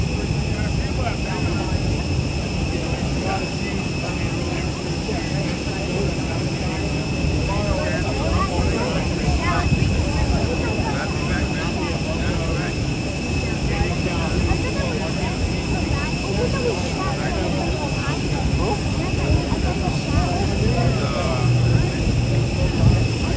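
Airplane carrying the Georgia football team arriving for the 2023 Orange Bowl, its engines droning as a constant loud roar with a high whine running throughout, while people talk over it.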